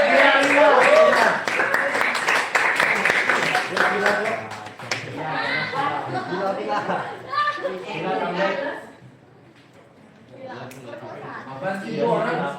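A class of students clapping in a classroom, a dense burst of applause with chatter and laughter mixed in, then scattered voices as the clapping dies away.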